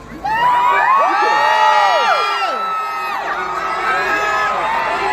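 A large crowd cheers and shouts a loud welcome for Downey on his Iron Man anniversary, with high whoops and children's squeals swelling at once, then holding as a sustained roar.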